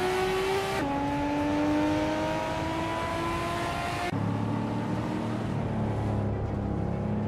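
Engine of a 1995 BMW 850 CS in a racing video game, a steady droning whine that steps down in pitch twice as gears shift, with tonal engine harmonics throughout and no talk.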